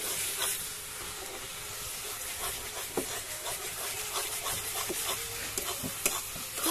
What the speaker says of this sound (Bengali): তো এখন চলছে মশলা কষানো।